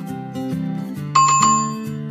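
A bright bicycle-style notification bell chimes once, sharp and ringing over a soft music bed, its tone lingering briefly before fading.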